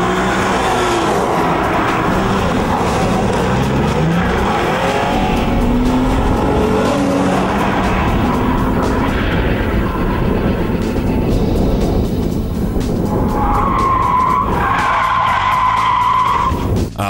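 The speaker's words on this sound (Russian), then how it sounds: "Водитель, находясь в салоне данного спорткара, может поддаться на провокацию и все-таки нажать педаль в пол" A Nissan 350Z NISMO engine roars at full throttle, loud and sustained, with tire squeal and rising engine pitch as it accelerates hard.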